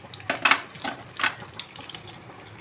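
Garlic flakes frying in hot oil for Andhra-style sambhar give off a soft sizzle, broken by a few clinking stirs of a spoon against the pan.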